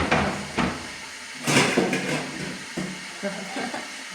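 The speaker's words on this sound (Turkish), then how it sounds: "Sos tenceremi çıkarayım." Clattering and scraping of cookware being pulled from a cupboard, a few sharp knocks and rattles close by, with a voice in between.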